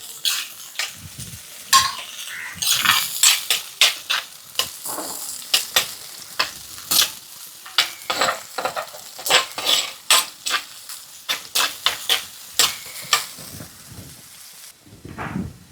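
Onions frying in ghee sizzle steadily while a spatula stirs and scrapes the pan in rapid, repeated metallic strokes, loud and close, with occasional clinks; no talking.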